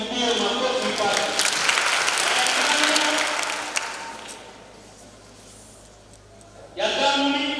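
Hearty clapping from a parish crowd in Arusha, gathered for first communion children at Kijenge, swells quickly and rolls on for about four seconds before dying away. A voice picks up speaking shortly afterward.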